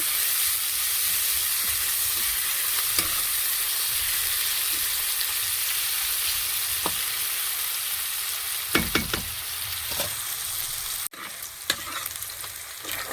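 Onions frying in a pan, a continuous close hiss and sizzle throughout, with a few spatula scrapes and clinks near the end.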